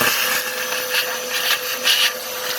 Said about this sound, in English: vacuum handy, clean off all that debris and trash